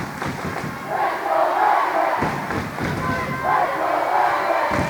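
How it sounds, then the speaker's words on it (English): A volleyball crowd at a high school match between Everett and Saugus cheers and roars steadily, loud and sustained with rising swells, while a commentator talks underneath. "The crowd is rocking here."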